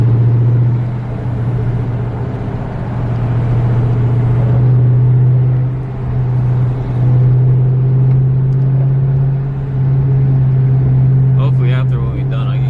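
A Dodge Charger SRT idles with a loud, steady low rumble that swells and eases slightly over several seconds, heard close from inside or beside the car, with a person talking over it.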